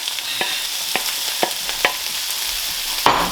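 Egg is scrambled in a hot pan for Singapore-style noodles: a bright, even sizzle broken by four or five sharp spatula scrapes at a regular pace, then a louder knock near the end.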